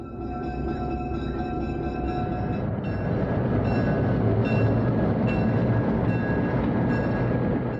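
Former Minneapolis Northfield and Southern number 21, a 1948 Baldwin diesel locomotive, runs with a steady low rumble and sustained engine drone, loud and close, with faint horn-like tones above it and no talk.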